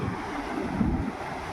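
Monsoon sea waves surging and crashing on the shore at Harihareshwar, a continuous roaring wash of surf with a swell near the middle, mixed with steady wind noise and no voices.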